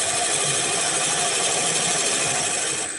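A roughing gouge cuts a spinning wooden bat blank on a wood lathe, giving a steady, loud, continuous hissing scrape that holds evenly throughout with no talking.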